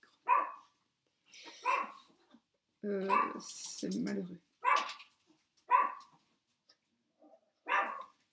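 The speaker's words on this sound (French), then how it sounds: "Qui est-ce qui aboie?" A pet dog barks in a home in several short separate bursts, close and fairly loud, while someone speaks French between and over the barks.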